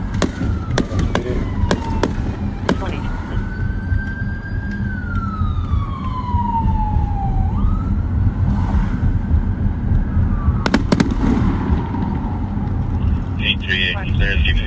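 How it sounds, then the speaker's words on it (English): Distant fireworks thump and crackle in scattered bursts beneath a loud, wailing police siren that sweeps up and down, with a steady vehicle rumble and talk mixed in. "technically she could be hearing these fireworks."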